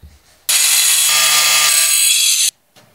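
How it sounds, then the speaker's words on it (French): An angle grinder cuts a wall tile, a loud, harsh, high-pitched whine that bursts in abruptly, holds steady for about two seconds, then cuts off, close and alone. "Marque-les et découpe avec la meuleuse d'angle."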